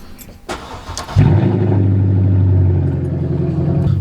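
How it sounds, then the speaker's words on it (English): Cold start of a straight-piped V8 car: a starter cranks briefly and the engine catches with a loud burst, then settles into a deep, throbbing, uneven rumble close to the microphone. "cold start."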